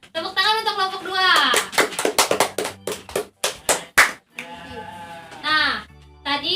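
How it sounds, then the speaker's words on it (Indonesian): Schoolchildren in a fourth-grade classroom applaud a group of classmates, with sharp uneven hand claps through the middle stretch and children's voices chattering before and after. "Tepuk tangan untuk kelompok 2."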